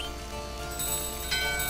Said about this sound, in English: And ding the bell